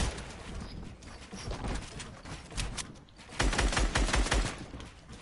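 Rapid bursts of automatic gunfire from the video game Fortnite crackle through a busy mix, thinning briefly before a louder, denser volley in the final couple of seconds.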